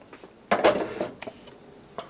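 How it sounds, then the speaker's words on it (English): A metal lid clanks onto a cooking pot on the cooker while making Guyanese pepperpot, a few close, sharp clatters with a softer knock or two afterward. "And you cover the pot."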